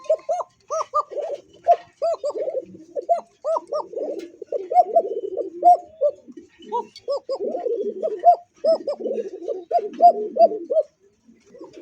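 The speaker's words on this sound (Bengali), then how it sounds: "কিন্তু এই ককার বেশি ডাকছে" Pigeons kept for sale in Bangladesh coo close by in repeated throaty, rolling calls that overlap in a busy, almost continuous chorus for the whole stretch.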